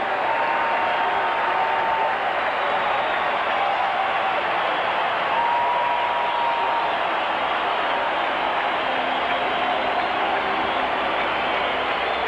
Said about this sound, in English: On the scoreboard, they flash the word noise, and immediately the crowd reacts.